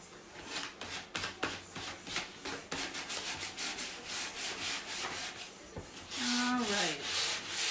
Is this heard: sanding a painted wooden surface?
yes